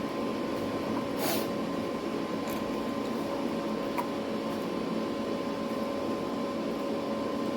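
Spice paste (masala) being ground in a home kitchen, heard as a steady, continuous whirring drone with a faint hum that holds evenly throughout, with no voices.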